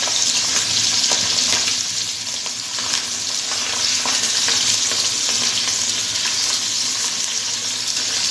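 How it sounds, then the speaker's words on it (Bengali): Pabda fish frying in hot oil, a loud, dense, continuous sizzle with occasional crackles and stirring scrapes, no voices. "আমি পাবদা মাছগুলো ভেজে নিই"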